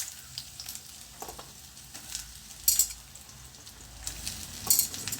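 Wild bitter gourd sizzles and crackles steadily in a hot pan with tempered mustard seeds, with occasional sharp pops and scraping stirs, fairly quiet and close.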